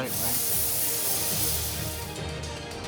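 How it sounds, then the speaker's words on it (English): A steady, bright hiss of veal sizzling in a hot pan, loud and continuous throughout with no pauses. "you can hear the sizzle in the pan"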